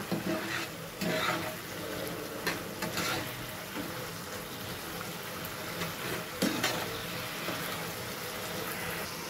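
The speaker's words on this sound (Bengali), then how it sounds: "এরই মাঝে আমি রান্নাটা ঢাকনা তুলে একটু নাড়াচাড়া করে দেব" A pot of Malabar spinach greens with taro simmers uncovered while a spoon stirs through it, giving soft sizzling and bubbling with a few clunks and scrapes, close and moderately quiet, no voices.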